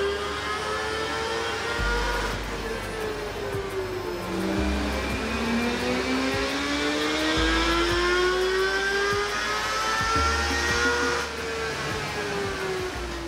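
A motorcycle with a completely standard exhaust runs on a dyno, its engine winding up through long rising and falling revs in a steady drone, with a faint hiss and no talk.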